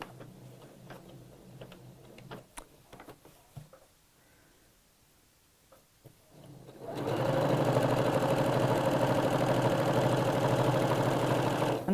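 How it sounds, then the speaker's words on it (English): Sewing machine stitching a fabric seam, quiet handling and faint taps at first, then running steadily and loudly for about five seconds with a continuous rapid whirring hum, close up and alone. "right from that mark, that seam, we're going to sew around the other side."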